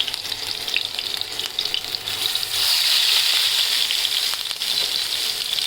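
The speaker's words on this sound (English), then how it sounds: "Now as you can hear this sizzling sound, I have flipped the fish so that other side can get fried." Hilsa fish fries in oil in a pan with a loud, continuous sizzle and crackle. The hiss swells around the middle as the fish is flipped, and there is no talking.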